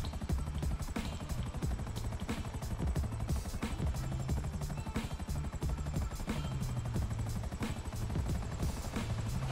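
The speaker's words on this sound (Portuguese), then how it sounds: "Deixa eu aterrissar esse helicóptero aqui no campo." A steady, chopping helicopter rotor drones loudly and continuously as it lands in GTA V, with a rhythmic thumping pulse and engine whine throughout, as in game audio.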